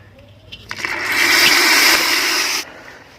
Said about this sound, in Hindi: देखो साथियों, हमने इस गोंद को इस पानी में डाल दिया है।